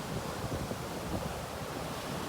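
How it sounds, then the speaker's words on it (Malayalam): Sea waves wash steadily onto Kovalam beach in Kerala, a continuous broad roar of surf mixed with wind buffeting the microphone, with no voices. "അവിടെ ഇരുന്നു കൊണ്ട് നമുക്ക് ഈ കടലിലെ തിരമാലകൾ ആസ്വദിക്കാൻ സാധിക്കും"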